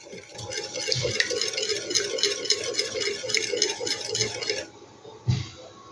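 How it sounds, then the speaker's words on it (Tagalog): An egg mixed with calamansi juice is whisked briskly in a bowl, giving a quick, steady rhythmic clicking and scraping close up for several seconds before stopping, with a soft thump after. "Haluin lang po natin."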